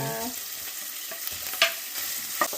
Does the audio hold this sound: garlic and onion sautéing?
yes